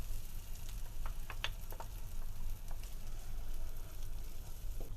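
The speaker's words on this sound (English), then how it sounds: "And we're just going to saute everything together" Spice paste and tomatoes sauté in a pan for Punjabi chicken curry, giving a steady soft sizzle with a few brief crackles and stirring scrapes, close but quiet, no talk.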